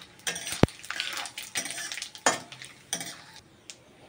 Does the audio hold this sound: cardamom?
yes